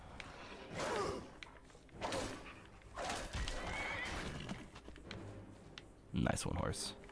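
A horse in the video game Skyrim Special Edition whinnies several times in bursts, with hoof clip-clops and soft breathy sighs in between, fairly close and clear.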